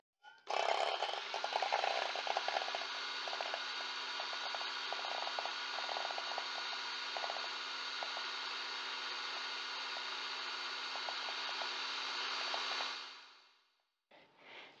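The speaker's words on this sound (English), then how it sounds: "I do have an electric mixer, so I'll get working on that." An electric mixer whips egg whites for a rhubarb raisin meringue pie, its steady, loud motor whir droning continuously for about twelve seconds before winding down and stopping, then a brief clatter.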